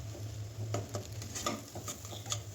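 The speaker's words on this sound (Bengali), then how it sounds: "তেলটাকে নেড়ে চেড়ে ভালো করে ঝুরি ঝুরি করে ভেজে নেব।" A duck egg is stir-fried and scrambled in hot oil in a pan, giving a soft, quiet sizzle with intermittent scraping and tapping of the stirring utensil, without speech.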